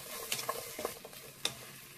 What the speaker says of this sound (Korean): 중약불로 이렇게 볶아주면 속까지 금방 익습니다